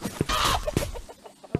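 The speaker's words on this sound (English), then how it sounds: "Go away, chicken." Chicken clucking in the video game A Township Tale, several short close squawks in quick bursts with a final sharp cluck after a pause.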